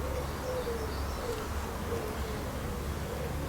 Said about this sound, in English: We are listening to the birds.